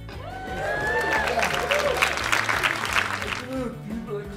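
Applause and scattered laughter ripple through a comedy club audience at a stand-up show, a moderate steady wash of clapping with a voice talking over it.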